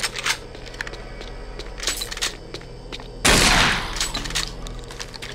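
Rapid gunfire bursts loudly in the video game Doom 3, with repeated sharp shots before a dense, heavy blast of fire that fills the final seconds.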